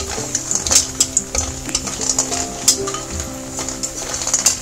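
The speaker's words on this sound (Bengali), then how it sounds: "আমার বড়িটা এখানে ভাজা হয়ে গেছে" Lentil dumplings (bori) fry in hot oil for a Bengali shukto while a spatula stirs them, giving a steady close sizzle broken by repeated scraping strokes and small metallic clinks against the pan.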